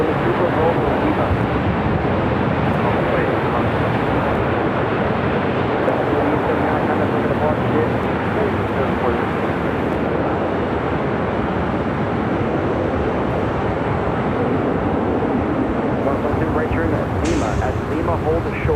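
An American Airlines airliner roars down runway 25 right at LAX on its takeoff roll, a loud, steady, broadband engine rumble heard under radio talk.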